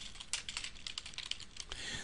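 Rapid, irregular clatter of keys on a computer keyboard as a typing mistake is corrected, a steady run of close, crisp taps with no voices.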